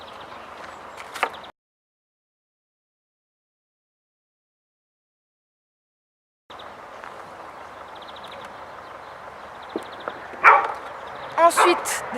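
A dog barks a few times, sharp and fairly close, over a steady background hum, following a stretch of silence.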